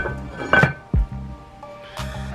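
A metal lid clinks down onto a pot of Ethiopian Doro Wat chicken stew, one sharp knock followed by a faint rattle, close and clear over a quiet kitchen hum.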